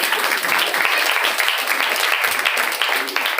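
Audience at a church gathering applauding in praise of the Lord, a dense, steady burst of many hands clapping throughout.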